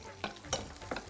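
Green chillies and chunky onion pieces frying in oil for a vegetable summer roll, with a steady sizzle broken by three sharp stirring scrapes of a spatula against the pan.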